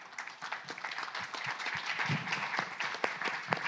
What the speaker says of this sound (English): I think there's a round of applause coming your way.